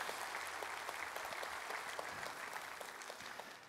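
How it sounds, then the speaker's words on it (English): Church congregation applauding together, a dense steady clapping that fills the room, sustained and fairly distant throughout with no talk over it. "can we give a big hand clap to those who prayed that prayer?"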